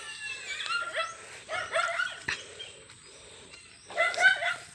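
A dog on a dry rural farm in the province barks and yips in three bursts of high, whiny calls with short pauses between them, close and fairly loud, with no talking.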